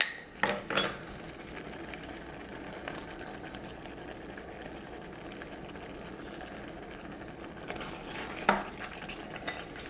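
A spoon stirs pectin and sugar into blackberry jam in a pot, giving a steady soft scraping swish with a few brief louder clinks near the start and end, no talking.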